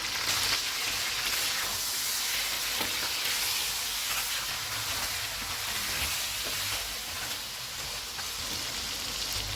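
Chicken pieces with onions and ginger-garlic paste frying in a karahi over a full flame, a steady loud sizzle and crackle with faint stirring scrapes, continuous throughout with no voices.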